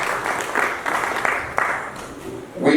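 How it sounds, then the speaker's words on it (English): An audience applauds at a government event on street children, a dense patter of clapping rising and falling in waves, with a brief louder sound at the end. "so you better clap properly"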